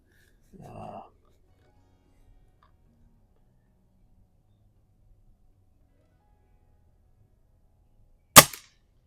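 A single sharp, loud crack from a Norica Omnia ZRS spring air rifle at an outdoor range rings out near the end, after a brief low murmur and long quiet.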